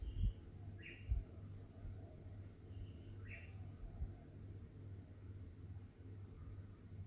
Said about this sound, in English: The sound of the bird songs, the sound of the geckos,